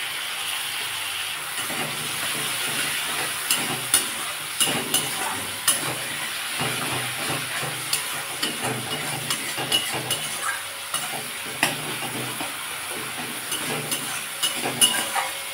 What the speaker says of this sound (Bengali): টমেটোগুলো আমি একটু খুন্তি দিয়ে একটু করে দিচ্ছি, চেটে দিচ্ছি